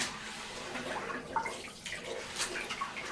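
Faint water draining from a bathtub after rinsing blinds, a soft continuous trickle with a few small drips and gurgles.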